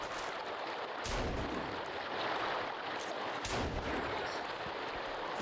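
Two sharp gunshots in the survival game Sons of the Forest, fired from some distance and roughly two seconds apart, cracking over a steady, loud ambient wash of background noise.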